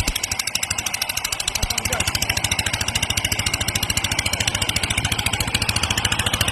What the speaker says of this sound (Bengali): পাওয়ার টিলার চালাচ্ছে